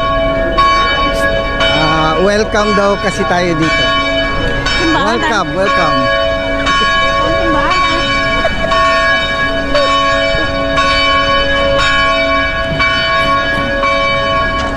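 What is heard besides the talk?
bell ringing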